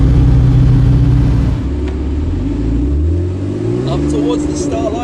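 Motorcycle fitted with a Kline Fenyr Super Sport exhaust, idling at low RPM at a hill-climb start area: a loud, deep engine rumble with a steady idle beat that dips and wavers, alongside a voice.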